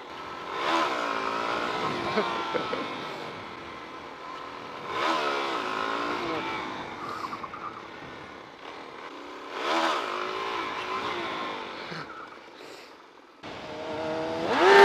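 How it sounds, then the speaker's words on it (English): A Ford vehicle pushes a Chevy car along the road, its engine revving in three separate surges that rise and fade, heard from close by with wind rumble and a brief voice between them. "Look, a Ford pushing a Chevy."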